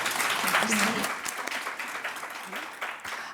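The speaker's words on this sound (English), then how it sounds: "can I have everyone join me in a round of applause for Dr. Candela and Dr. Suzanne Williams?" An audience at a medical conference session on transfusion medicine in sickle cell disease gives a round of applause. It swells at the start and then tapers off, with a voice speaking over it.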